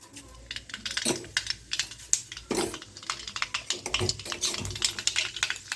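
Mustard seeds land in hot cooking oil and crackle with sharp, scattered pops and clinks, close and busy, punctuated by a few louder bursts and utensil taps with no talking.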